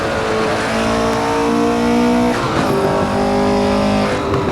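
An old car engine accelerates up through its gears, the steady droning note rising in pitch and then dropping at a gear change before climbing again, loud and close throughout.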